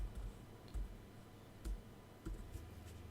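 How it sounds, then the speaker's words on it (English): Faint, sparse keystrokes on a computer keyboard typing a short chat message during a remote-support screen-sharing session, with a few irregular clicks spread over a few seconds and no talking. "the moment I take control of it, I can start typing, like hi John."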